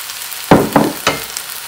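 Gnocchi with vegetables and oyster sauce stirred in a pan, heard as three quick, close scraping sizzles about a quarter second apart, followed by a soft hiss with no talking.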